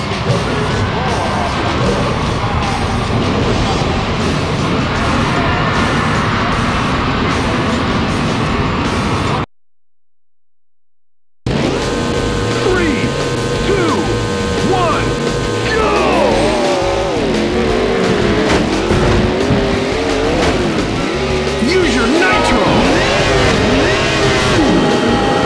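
A race car engine roars loud and continuous in the off-road racing game Offroad Thunder, revving and shifting with tire noise, broken by a two-second gap of silence before the engine picks up again.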